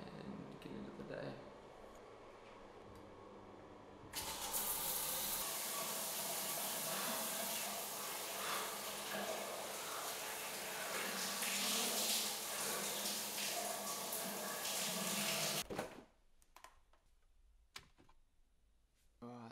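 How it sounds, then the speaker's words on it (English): A morning shower runs with a steady, loud hiss of spraying water that starts suddenly and stops abruptly after about eleven seconds, with quieter room noise before and after. "I'm going to have a shower and get into the day."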